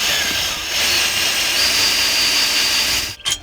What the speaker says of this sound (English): now I'm going to unscrew the other one